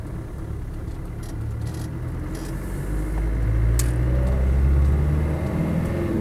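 A Land Rover Defender 110 300TDi diesel pulls under load, its engine rumble swelling midway as the turbo builds boost, heard from inside the cabin with faint rattles.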